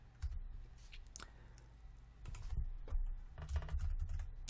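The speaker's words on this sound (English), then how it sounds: "And you see I started typing." Keyboard typing in short bursts of quick clicks, close and fairly quiet, with pauses between runs and no talking.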